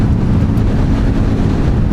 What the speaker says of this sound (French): J'ai le vent en pleine face.